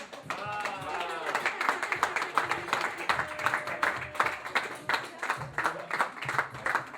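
Audience applause in a hall greeting Philippe Bochu as he is introduced, steady dense clapping throughout with a voice speaking over it at the start and cheering underneath.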